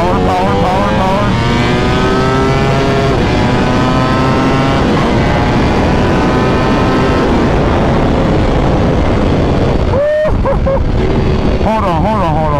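A 2023 Ducati Panigale V4R motorcycle engine revs hard and loud, its pitch climbing through the gears with quick shifts near the end, while a rider talks over the roar.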